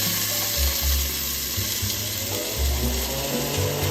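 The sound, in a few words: onions sizzling in olive and vegetable oil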